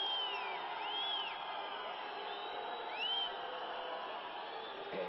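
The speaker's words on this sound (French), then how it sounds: "Et les dieux du stade sont applaudis comme ils le méritent." Crowd at a vintage wrestling match cheering and applauding the wrestlers, a distant roar of voices with a few whoops and whistles rising above it, faint and muffled, with a commentator speaking over it.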